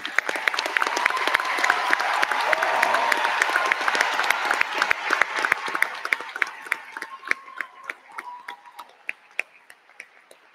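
Graduation ceremony audience applauding cum laude students at a high school commencement, sustained clapping from a large crowd that gradually thins to sparse, distinct individual claps near the end.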